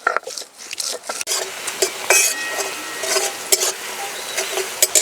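Chopped onions fry in hot oil in a pan for matar paneer, a loud, close crackling sizzle broken by scraping stirs and clinks of the utensil.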